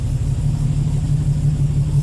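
A Holden VK Commodore idles steadily just after its first start in eight years, a loud close low rumble holding an even tone.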